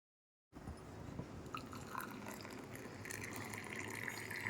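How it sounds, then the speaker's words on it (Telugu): Freshly boiled water is poured into a coffee filter, a steady close splashing trickle that starts abruptly and continues evenly, growing slightly brighter toward the end. "ఫిల్టర్లో పోసేసుకుందాము ఇప్పుడు వాటర్ని"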